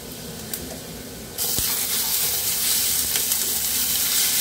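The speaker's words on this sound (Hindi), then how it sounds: "इसमें हम तैयार किया हुआ प्याज, लहसुन और मिर्च का पेस्ट डाल देंगे" A paste of onion, garlic and chili hits golden-brown onions in a frying pan while making an ivy gourd curry: a quiet lead-in gives way to a sudden, loud, rushing sizzle that holds steady to the end.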